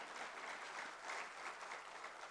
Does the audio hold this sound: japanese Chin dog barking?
no